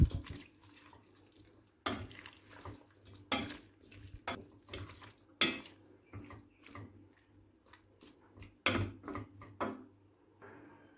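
Water poured into a pot of green beans and diced potatoes for a Turkish meat and bean stew, a splashing, running stream broken by several sharper clinks and knocks against the pot, close and fairly quiet.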